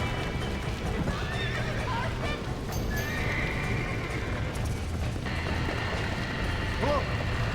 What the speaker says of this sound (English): That dumb horse!